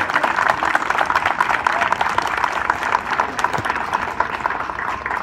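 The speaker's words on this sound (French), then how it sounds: "On peut peut-être les applaudir parce que vraiment c'est un très très bon moment." An audience at a Téléthon launch event applauds a group of young people, sustained dense clapping from many hands filling the room steadily for several seconds, fairly loud and unaccompanied by talk.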